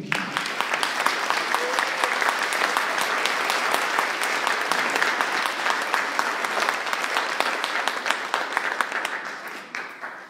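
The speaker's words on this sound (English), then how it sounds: "A round of applause for Althea." An audience at a Dia de los Muertos gathering breaks into sustained applause, a dense, even wash of many hands clapping for about ten seconds before tapering off at the end.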